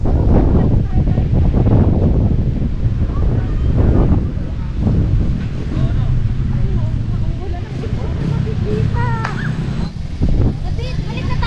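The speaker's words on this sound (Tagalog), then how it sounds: "malakas ang hangin" Strong wind buffets a microphone beside Sampaloc Lake in San Pablo, Laguna, a loud continuous rumbling roar that goes on throughout, with voices talking faintly underneath.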